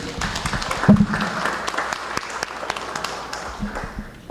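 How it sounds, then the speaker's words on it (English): Audience applause welcomes panel guests at a Salesforce Hawaii Innovation Day systems integration session: a steady wash of clapping from a conference crowd that fills the whole stretch at an even, moderate level. "So please, a round of applause for our next guests."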